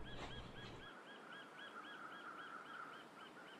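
Crows squawking in The Long Dark video game, a run of repeated rhythmic calls at a steady pace over faint outdoor ambience, moderately distant.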